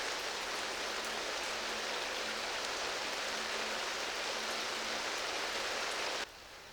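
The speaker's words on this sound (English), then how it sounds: "And of course, it's raining." Rain falls steadily outdoors on a morning, a dense, even hiss that holds for about six seconds before dropping off abruptly to a quieter background.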